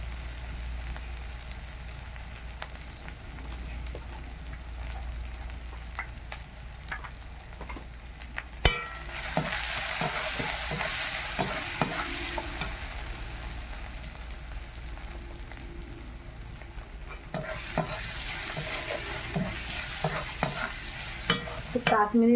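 Ginger and garlic fry in a pan with turmeric and chili powder for a village chicken curry. Soft oil sizzle runs under repeated scraping stirs, growing louder and busier about midway.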